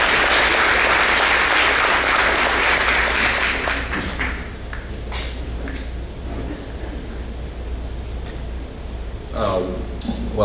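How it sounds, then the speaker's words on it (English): A breakfast audience gives loud, dense applause for a student speaker from Cheatham County High School, strongest over the first four seconds and then thinning into scattered claps with a cheer or voice near the end. "Let's give Peyton a warm round of applause and welcome him up here."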